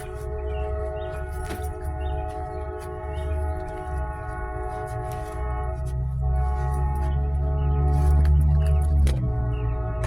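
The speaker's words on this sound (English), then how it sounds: "every year that train goes on, the worse it gets." A train rumbles past steadily while a long, sustained horn sounds over it, growing louder toward the end; faint birds chirp in the background.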